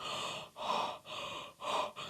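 Rhythmic, breathy panting in quick in-and-out bursts, like a large dog, close and fairly quiet; a person imitating the sound as a vocal breathing exercise.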